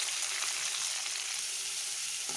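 Chopped onions frying in hot oil with ginger and garlic, a dense, steady sizzle that stays close and even throughout, with no voices.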